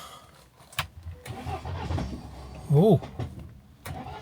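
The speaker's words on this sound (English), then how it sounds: "It's like it starts and then turns off because it thinks it's actually started for a second." A car engine with suspected glow plug trouble cranks on a freezing cold day while a jump pack is connected, then catches briefly before dying again. The sound is faint and comes in short bursts under a brief spoken exclamation.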